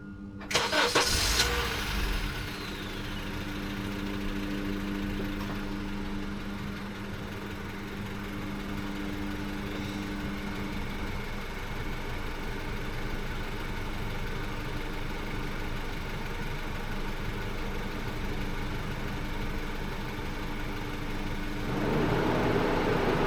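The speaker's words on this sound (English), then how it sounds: "Hit the start button, and I will start the engine." A vehicle engine cranks and catches during an evaluation test, then settles into a steady, even idle that runs on without a break, fairly loud and close, with no talk over it.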